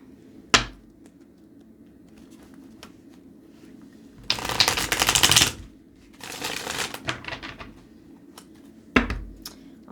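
A deck of tarot cards being shuffled in bursts, with a couple of sharp taps or snaps of the cards. The riffling is close and fairly loud against a quiet room, with pauses between bursts.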